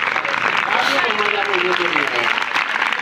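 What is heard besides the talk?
applause from an audience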